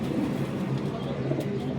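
High-flyer pigeons coo softly in a loft in Pakistan, low murmuring calls that blend into a steady background hum with no clear break.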